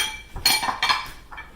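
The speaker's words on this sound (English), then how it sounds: "Now we're going to chop us up an apple." A knife chops a Honeycrisp apple on a cutting board in a home kitchen: three sharp, close knocks spaced about half a second apart, with a faint clink of metal.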